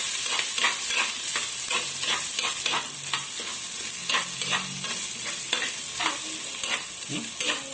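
Green chilies, red chili padi and red chilies being stirred in a frying pan for chicken curry, with a steady sizzle and repeated scraping strokes of the spoon throughout.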